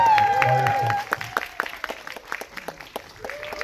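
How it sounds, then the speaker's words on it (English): An audience bursts into applause at a film festival world premiere screening, dense clapping that follows a brief tonal sound at the start and continues fairly close. "Let's give a round of applause to Ms."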